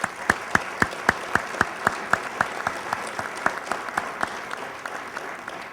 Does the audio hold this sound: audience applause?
yes